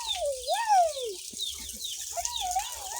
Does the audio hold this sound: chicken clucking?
yes